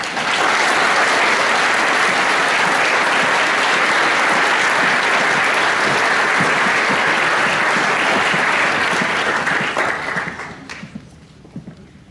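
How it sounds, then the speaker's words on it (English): Dense, loud crowd applause at a Year 13 graduation ceremony, a steady roar of many hands clapping that holds for about ten seconds before tapering off into a few scattered claps. "Big round of applause, please."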